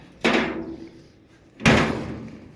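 Door of a 1929 Chrysler being swung open and shut, two sharp metallic clunks about 1.4 seconds apart, each ringing out briefly, close and loud with no talking.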